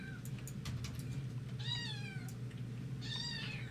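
A person imitates a lost kitten, giving a few faint, high, drawn-out meows separated by short pauses over a low steady background hum.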